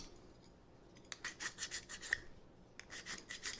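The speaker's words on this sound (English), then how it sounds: "take your file and just knock off the edges" Quiet rasping strokes of a metal file deburring drilled edges on a heatsink, several short bursts in an uneven rhythm with brief pauses between.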